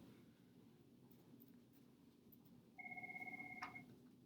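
A telephone rings in a quiet room during a geometry lesson on parallel line proofs, a short burst of bright trilling electronic pulses starting partway through and cutting off abruptly.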